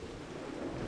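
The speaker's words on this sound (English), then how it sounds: "Maybe our friends came in here to take shelter from the rain." Rain and rumbling thunder in the video game Battleblock Theater, a brief, faint and steady wash of storm noise with a low rolling rumble underneath.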